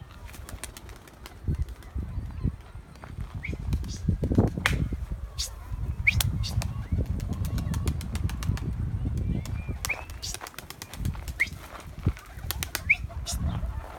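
Pigeons flap their wings inside a loft in scattered, sharp bursts and rustles over a low background, with occasional faint movement between the flurries.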